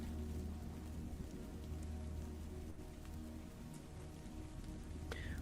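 Steady rain falls on a surface in an outdoor scene, a dense even patter of drops that continues throughout without voices.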